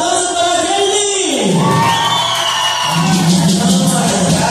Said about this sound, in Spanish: ¡Los aplausos para Kelly!